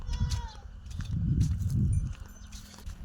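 Cows and buffaloes led out together in a rural Indian village, with low bleating calls and shuffling hoof sounds close by, busy and continuous.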